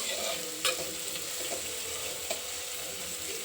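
Masala for paneer gravy fries and sizzles steadily in a pan, with a few sharp scrapes from stirring, close and continuous with no talk.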